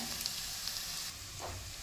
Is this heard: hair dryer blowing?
no